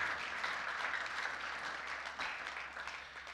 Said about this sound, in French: Acclamons pour le roi des rois.